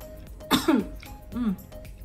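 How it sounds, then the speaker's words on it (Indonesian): A burst of coughing close by after tasting spicy Ambon-style yellow pickled vegetables, followed by a rougher cough and throat clearing, then a quieter hoarse follow-up. "Langsung batuk-batuk"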